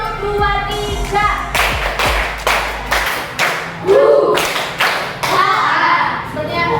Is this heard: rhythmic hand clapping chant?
yes